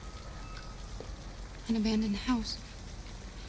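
Steady rain falls around an abandoned house in the video game Detroit: Become Human, a soft continuous hiss beneath a voice speaking briefly partway through.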